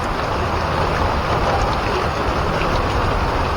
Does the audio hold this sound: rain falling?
yes